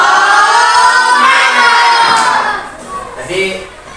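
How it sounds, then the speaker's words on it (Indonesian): A classroom of children chant loudly together in a rhythmic cheer, a bright, near chorus of young voices with some hand sounds that fades and falls unevenly toward the end. "Yang pertama Bapak akan memimpin tepuk semangat"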